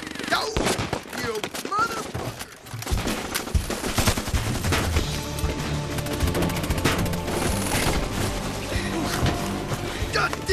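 Gunfire from a shootout in the 2007 film Postal, dense rapid automatic bursts and single shots going on almost continuously, loud and close, with shouted voices mixed in.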